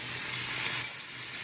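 Garlic sizzles in a hot pan during home cooking, a dense, steady frying hiss that stays loud and close throughout with no talking.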